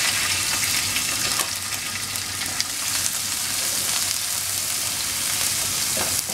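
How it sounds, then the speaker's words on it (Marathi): Chopped onion with hing and curry leaves is sautéed in hot oil, crackling and sizzling in a continuous bright hiss with faint stirring scrapes underneath. "त्यात कांदा तेलात घालायचा आहे।"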